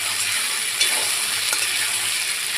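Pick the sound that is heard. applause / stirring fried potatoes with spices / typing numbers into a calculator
stirring fried potatoes with spices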